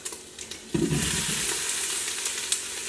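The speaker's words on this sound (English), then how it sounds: "A little bit of fat has rendered from the bacon, so I'm going to move the bacon over to the edge and then dump in my Brussels sprouts." Brussels sprouts dumped into rendered bacon fat in an Instant Pot, a thud of landing sprouts bursting into a loud, steady sizzle with crackling spits that continues to the end, without talk.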